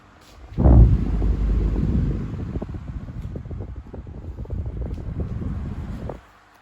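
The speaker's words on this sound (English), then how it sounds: "Here's low on the 2003 B&Q. Much more powerful, but also more noisier." A 2003 B&Q 12-inch desk fan running on its low setting, switching on abruptly and whirring with a loud, steady rumbling airflow for about five seconds before cutting off.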